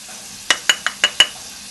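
Onions frying in a pan as turmeric and paprika go in for Indian cauliflower rice, with five sharp stirring scrapes or clinks spaced evenly over a soft steady sizzle.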